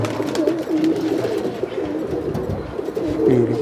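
Kaldume and Kagji Makwe pigeons coo continuously and close by in a loft, soft rolling calls repeating over low background rumble.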